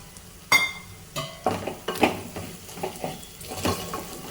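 Cut okra going into a pot for Telugu-style okra stew and being stirred, with sharp metallic clanks of a spoon against the pot followed by a series of softer scraping, knocking stirs, close up and without talk.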